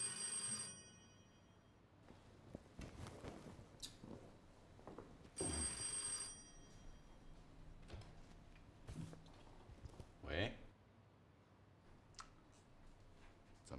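An office telephone rings with two bright, trilling bell bursts separated by a quiet stretch of faint clicks and rustling.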